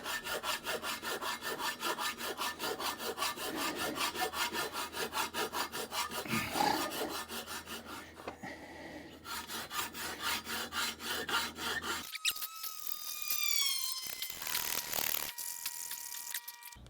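A folding saw cutting through steel rebar, a rapid rhythmic rasping back-and-forth of teeth on metal, close and steady, with a brief pause and shifting scraping strokes toward the end.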